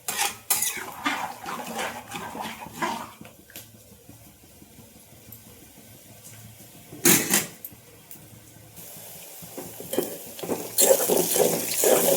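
Water is poured into cooked, well-mashed dal with chirrāku greens in a pot, mixed with utensil clatter and stirring, and gushing bursts rise loud and close among quieter pauses.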